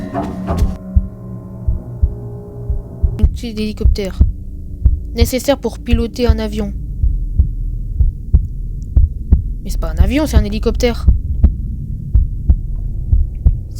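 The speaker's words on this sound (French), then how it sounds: "J'entends des battements de cœur là," Slow, steady heartbeat thuds pulse throughout a horror video game set in a house overrun by rats, low and repetitive beneath someone talking, with a constant low hum underneath.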